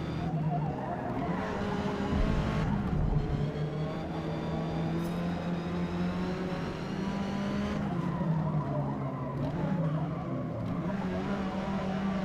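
A tuned Hyundai Veloster N race car in Forza Motorsport slides and skids, its engine droning steadily with rising and falling pitch while tires squeal through the turns, fairly loud and continuous.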